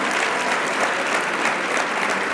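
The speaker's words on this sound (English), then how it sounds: "Please clap for me." Audience applause fills a hall at a Daystar talk, dense and steady throughout, loud and close with the crowd clapping continuously without pause.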